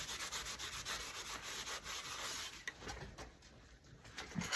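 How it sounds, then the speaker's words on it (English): Clear wax being wiped and rubbed onto a cardboard bucket, a continuous close, soft scratchy rubbing with rhythmic strokes that eases slightly toward the end. "I'm going over this first with some clear wax. Wipe it back."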